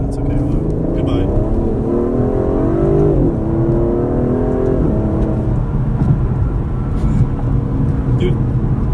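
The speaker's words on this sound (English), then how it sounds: "this acceleration is effortless" Aston Martin DB11 with a V12 engine accelerating on the road, heard from inside as a steady, smooth low engine drone with a rising pitch sweep, continuous and moderately loud throughout.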